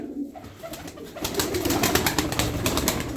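Racing tumbler pigeons cooing and fluttering nearby, a steady stream of soft bird sounds with busy background noise throughout.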